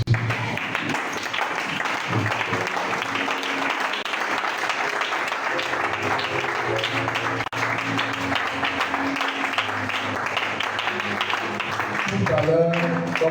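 A church congregation applauds and cheers in praise of Jesus, with dense sustained clapping and voices throughout, music or singing mixed in.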